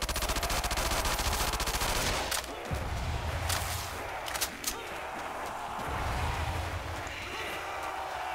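Rapid bursts of automatic gunfire from Call of Duty: World at War zombies on a snowy town map rattle loudly at first, then give way to scattered single shots and clatter as a voice talks.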